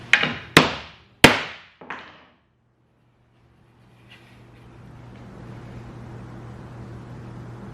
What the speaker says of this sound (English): Let's take the hammer to it.